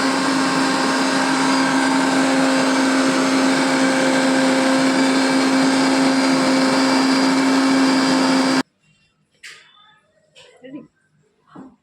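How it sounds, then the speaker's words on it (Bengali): A mixer grinder whirs steadily at high speed, grinding dried red chili into powder, loud and continuous with a droning hum, then cuts off abruptly near the end, after which a few faint clinks and light handling noises follow. "দেখতে পাচ্ছ লঙ্কার গুঁড়োটা আমার অনেকটা হচ্ছে, আর একটু মিক্সি করতে হবে"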